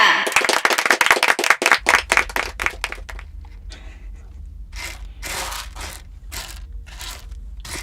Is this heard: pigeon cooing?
no